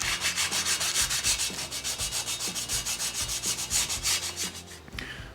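A curbed wheel rim is hand-sanded in a quick, steady back-and-forth rhythm, producing a close, gritty rasp that continues for several seconds before stopping.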